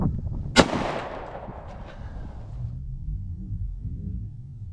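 A single sharp 9mm +P gunshot from a Glock 19 or Sig pistol fires Underwood Xtreme Defender 90gr rounds into clear ballistics gel outdoors. The loud crack is followed by a lingering echoing decay and faint low background rumble.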